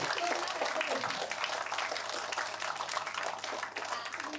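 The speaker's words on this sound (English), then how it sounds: "Please give a warm round of applause to welcome our guest of honor, Dr. Shobhana Radhakrishna." An audience applauds steadily to welcome a guest of honor at a school campus event, the dense clapping filling the whole stretch with a low hum underneath and no words spoken.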